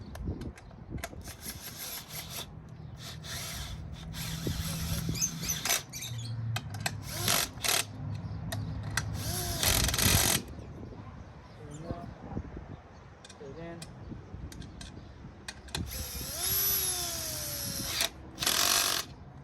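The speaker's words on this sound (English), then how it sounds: "And we could even use the drill for this." Bursts of a power drill whirring and ratcheting in short runs as it drives bolts during a brake change on a Yamaha Kodiak 400 ATV, with clanks of metal parts and tools between them and occasional voices.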